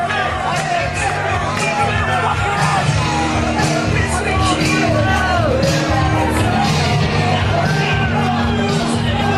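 A wrestling crowd at a Tournament of Death show in Kentucky yells and cheers loudly and continuously, a dense wall of shouts and whoops filling the space throughout.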